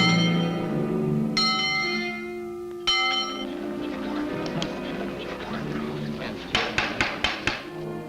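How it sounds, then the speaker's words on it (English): A metal bell at a frontier town's fire engine house is struck, two single ringing clangs a second and a half apart, each left to decay, then a quicker burst of several strikes near the end. "Jim, go on down to the engine house and ring the bell."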